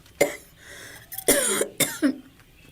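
A person gives a few sharp, close coughs at irregular intervals, one a harsh double burst, separated by quiet pauses.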